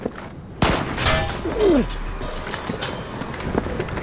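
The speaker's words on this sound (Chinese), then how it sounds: "子弹从高塔方向射出，有狙击手。" A burst of gunfire in a tense tactical standoff, a sharp broadband crack followed by a second loud report and a whooshing streak, then rumbling echoes under a lower, busy background.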